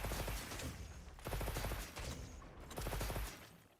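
Video-game gunfire as a whole magazine is emptied: three dense bursts of rapid automatic shots, loud and close, separated by brief pauses.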